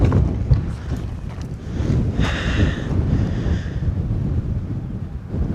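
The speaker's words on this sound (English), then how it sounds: "how's it even this windy," Strong gusting wind in a windstorm on an exposed freeride jump hill, roaring and buffeting the microphone in a steady, loud rush with low rumbling throughout and brief whooshing surges.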